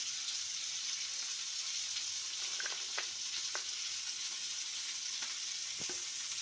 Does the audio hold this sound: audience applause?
no